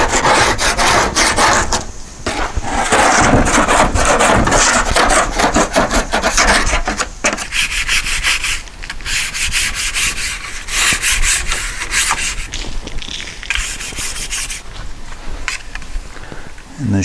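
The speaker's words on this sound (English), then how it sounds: "I'm going to have to get in here and scrape all this garbage off" A hand scraper works old glue off the door panel of a cargo trailer in long, repeated rasping strokes. The sound is loud and close, with the strokes turning lighter and more broken partway through.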